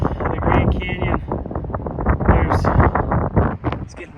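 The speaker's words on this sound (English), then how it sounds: "It's getting windy, hopefully you can hear me." Gusty wind buffets the microphone on a sandy beach trail deep in the Grand Canyon, a steady rough rumble rising and falling throughout, with a voice talking over it.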